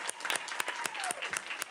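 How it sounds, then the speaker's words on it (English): Applause at a school board committee meeting for honored scholars and their leader, sharp individual claps from a modest group ringing out irregularly, fairly faint and somewhat distant. "Give them a big round of applause"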